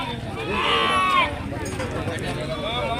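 A sheep lets out one clear bleat near the start at a busy sheep and goat market in Kanigiri, with people talking over a noisy outdoor crowd throughout.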